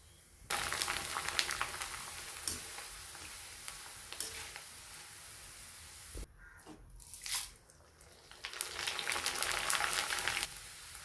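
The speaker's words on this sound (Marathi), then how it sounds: "अशा पद्धतीने आपण सर्व मक्का चिवडा तळून घेऊया" Corn chivda deep-fries in hot oil with a steady, close sizzle and crackle. The frying is briefly muffled midway, then rises again to full strength. No voices are heard.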